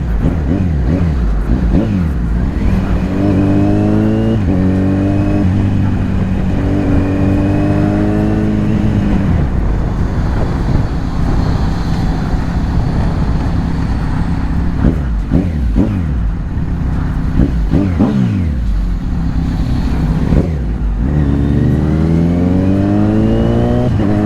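A Kawasaki Z900 motorcycle splits lanes in traffic, its engine loud and continuous with repeated rising revs and gear shifts, close-up over constant wind rush.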